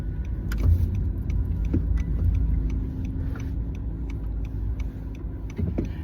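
A car moves through traffic, its low engine and road rumble steady from inside the cabin, with faint clicks and small knocks scattered throughout.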